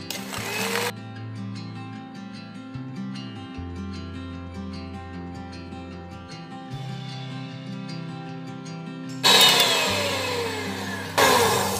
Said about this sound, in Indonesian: kita mixer dengan kecepatan rendah dulu